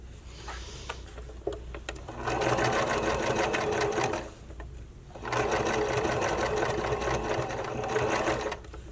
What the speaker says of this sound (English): as you're stitching here, make sure you don't get anything caught under